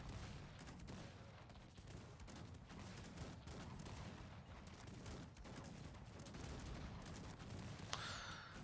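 Battle din from Cossacks 3 on a strategy map, dense crackling volleys and rumbling booms that could come from a player's sixteen cannons, steady and low in level, with a brief sharp tone near the end.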